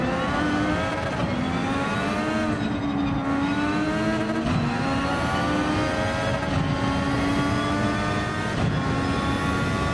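Honda MP4/4 race car engine in Gran Turismo 7, a high-pitched, loud racing engine revving steadily with harmonics rising and falling through gear changes, continuous and close with no talk.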